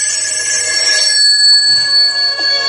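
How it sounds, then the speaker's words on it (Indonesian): Home telephone ringing, a loud bright electronic bell tone that trills steadily, close and alone with no voices. "mendengar deringan telepon rumah sampai 3 kali"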